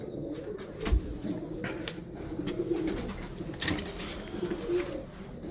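Breeder pigeons, including a cross-bred pair with their young, coo softly and repeatedly nearby, with a few sharp chirps and light rustles mixed in.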